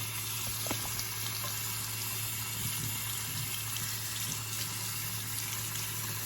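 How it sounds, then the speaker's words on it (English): Tap water runs steadily into a water flosser's tank in a continuous hiss and splash, with a low hum beneath, unbroken for several seconds. "I'm gonna go ahead and fill this up with water real quick"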